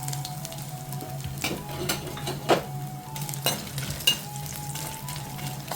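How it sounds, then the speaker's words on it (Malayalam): Coconut pieces fry in hot coconut oil with popped mustard seeds, a steady close sizzle broken by several sharp stirring clinks of a utensil against the pan. "കടുക് പൊട്ടിയതിന് ശേഷം തേങ്ങാക്കൊത്ത് മൂപ്പിക്കുക"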